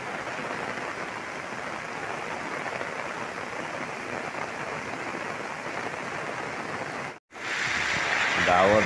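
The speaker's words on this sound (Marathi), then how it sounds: "कोकणात मुसळधार पाऊस चालू झालाय" Heavy monsoon downpour in the Konkan region, a dense, steady hiss of rain filling the scene for several seconds, briefly cut off near the end before resuming loud and close.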